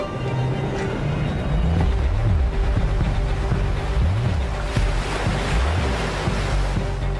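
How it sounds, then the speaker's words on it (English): Storm on the Sea of Galilee: heavy, continuous crashing waves and surf with strong wind buffeting the microphone, loud and close throughout, with a low rumble underneath. "a famous Israeli director, Moshe Alpert, captures one of the greatest storms ever recorded on tape in the Sea of Galilee."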